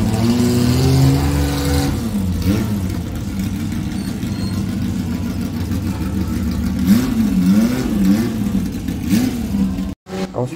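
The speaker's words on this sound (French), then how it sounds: "Une magnifique et incroyable GT40 suivie d'une très bruyante M1 Procar. Je vous laisse d'ailleurs écouter le bruit" A BMW M1 Procar race car at the Tour Auto revs loudly nearby, its engine note rising and falling in repeated throttle blips over a rumbling idle, with a brief cut near the end.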